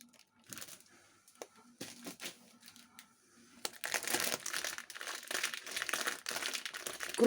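A plastic packet of powdered milk crinkling and rustling up close, quiet at first with scattered handling noises, then growing into steady, louder crinkling.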